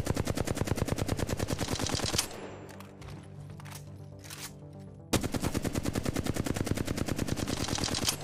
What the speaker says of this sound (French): Tu prends une arme, tu la stuff et tu tires.